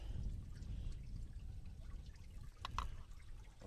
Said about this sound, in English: it's still draining coolant out of the block up here